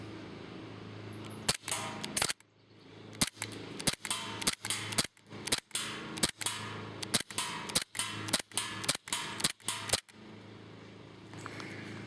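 A KWC Taurus PT92 airsoft gas blowback handgun fires BBs in quick repeated sharp cracks, each shot a crisp snap with a mechanical clack, around fifteen shots in uneven bursts, close and loud with brief quiet gaps.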